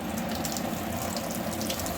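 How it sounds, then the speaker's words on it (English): Water drains out of an orchid pot held over a garbage can, a continuous rushing trickle that stays even and fairly loud throughout, with no voices. "I dumped the whole thing back over it, and I'm allowing it to drain while I'm standing here holding it"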